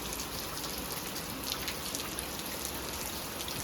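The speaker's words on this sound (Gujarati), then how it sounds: "વરસાદ જોવો ચાલુ ધીમો ધીમો" Light rain falling steadily outdoors at a home, a soft continuous patter of drops on surfaces, even and hissy throughout with no voices.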